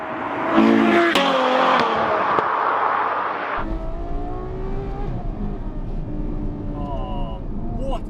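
A Ferrari 812 Superfast in race mode accelerating hard along a straight road, loud and close, the engine climbing through the revs before an upshift, then the tone drops and a voice speaks over the lower engine noise.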